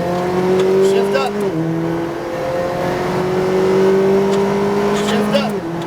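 A McLaren GT4 race car accelerates on the Speed Vegas track, its engine note climbing in pitch between upshifts, with a couple of brief dips as gears change. A voice talks over the engine.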